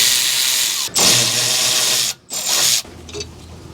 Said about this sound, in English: Now we can loosen and remove these 2 caliper slide pin bolts.